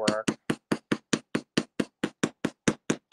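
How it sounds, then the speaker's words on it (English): A chasing hammer taps a metal amulet for jewelry making, about fourteen sharp, even metallic strikes in steady rhythm, close and fairly loud with no talking. "This is actually a chasing hammer, but it'll work."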